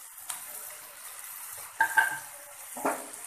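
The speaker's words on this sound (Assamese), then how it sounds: "আৰু অলপ ভিজাৰ পাছতে বিলাহী দিম।" Tomatoes go into a pan of colocasia and chicken frying together, giving a faint, soft sizzle broken by a few brief stirring clatters and a light splash.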